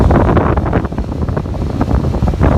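Gocheer air purifier fan running at high speed, held close, giving a loud, steady rushing whoosh of air that fluctuates slightly in strength throughout.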